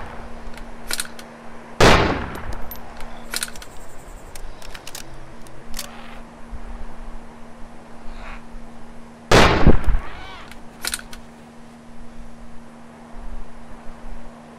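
Rifle gunshots in the video game DayZ, two loud sharp cracks several seconds apart, with faint smaller pops and a steady background hum between them.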